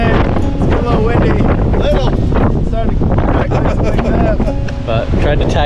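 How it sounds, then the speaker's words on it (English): Strong wind from an approaching storm buffets the microphone outdoors, a loud, continuous rumbling roar with gusty surges throughout and no break. "The storm's rolling in. It's getting a little windy."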